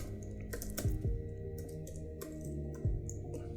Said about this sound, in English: I'm gonna press Shift F5 on my keyboard